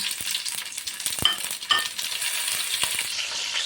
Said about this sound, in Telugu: పోపు దినుసులు అన్నీ వేసేసుకుంటున్నాను